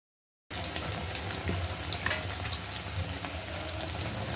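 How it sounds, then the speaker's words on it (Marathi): Bread vegetable toast fries in hot oil, a steady close-up sizzle with scattered crackling pops that starts abruptly and continues without talk. "ब्रेडचे तुकडे आपण एका बाजूने व्यवस्थित तळून झाल्यानंतर दुसऱ्या बाजूनेही"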